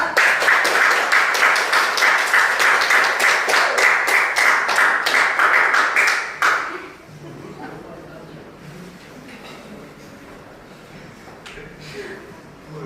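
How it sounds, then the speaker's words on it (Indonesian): Classroom applause for a student group: a room of people clapping loudly and steadily for about six seconds, then stopping abruptly, leaving quiet murmuring and shuffling with a voice speaking. "Dan kita berikan aplaus untuk kelompok 2."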